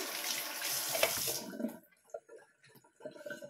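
A kitchen tap runs while hands are washed, a close splashing rush of water for about a second and a half before it shuts off, followed by a few faint clinks and small movements.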